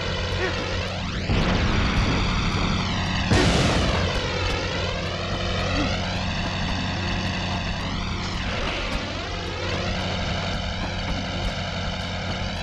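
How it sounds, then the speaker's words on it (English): An out-of-control propeller plane in a Spider-Man video game drones steadily throughout, its engine pitch sweeping up and down repeatedly, with a louder surge and crash-like burst near the start over a constant background hum. "That plane's out of control."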